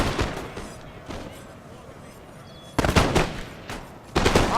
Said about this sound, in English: You can just see the Russians falling like flies from the shots of the Danish sharpshooters and line infantry.